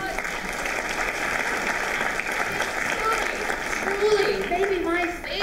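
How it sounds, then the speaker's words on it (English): An audience at a Writers Week event breaks into dense, sustained applause that stays steady throughout, with some voices mixed into the clapping. "Give yourself a round of applause."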